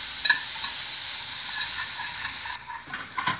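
Flour cooks in melted butter for a béchamel sauce, giving a soft, even sizzle and hiss with a few light scraping stirs, close and fairly quiet.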